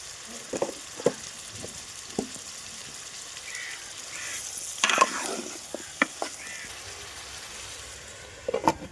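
Elephant yam pieces fry in oil for a village-style curry, giving a soft, fairly faint sizzle dotted with scattered clinks and scrapes of stirring, with no voices.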